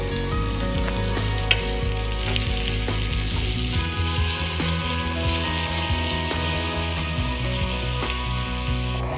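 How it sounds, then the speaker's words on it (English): Already-fried paneer pieces go into a spiced mixture for paneer pulao, and the pan answers with a loud, steady close-up sizzle, with light stirring scrapes and clicks running through it and no talking. "Now we will add the already fried paneer into the mixture."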